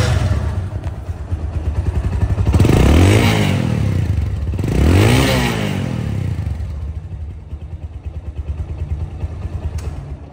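Nearby, a second-hand motorcycle engine at a Bangladeshi bike showroom runs at a rough idle and gives two strong revs that rise and fall, then settles back to a steady, throbbing idle.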